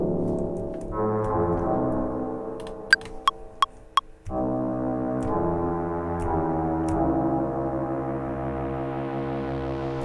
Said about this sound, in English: you've got some nice paddy sound like this